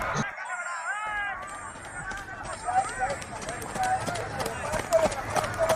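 Horses racing in a village gallop competition, quick clip-clop hoofbeats under a loud announcer's commentary, with honking horns and crowd noise around.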